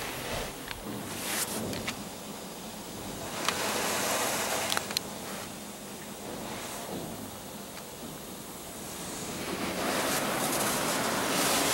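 A Laserwash 4000 automatic car wash sprays pre-soak, heard from inside the car as a broad, rushing hiss that swells and eases, with occasional thumps and no talk.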